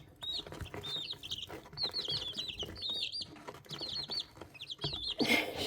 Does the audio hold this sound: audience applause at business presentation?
no